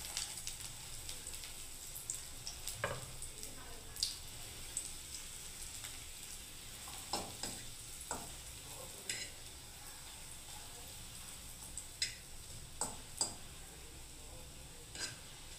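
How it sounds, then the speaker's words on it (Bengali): Bread slices fry in ghee for a bread custard pudding, a steady soft sizzle with intermittent clinks and scrapes of a utensil lifting them from the pan. "একটু লাল করে ভাজবো বন্ধুরা।"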